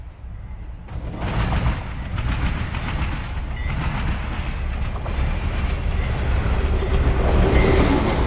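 CSX Q375, a Cumberland, Maryland to Cincinnati manifest freight, rolls past on the Toledo Subdivision, its loud rumble and clickety-clack of wagons building after the first second and holding steady and close.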